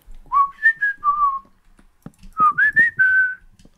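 A person whistles by breathing in rather than blowing out, producing two short melodic phrases of sliding, airy notes separated by a brief pause, close and clear.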